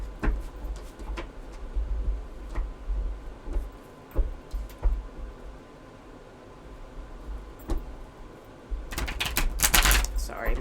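Cards being shuffled close up, crisp clicking and riffling in uneven bursts, ending in a louder flurry of card snaps.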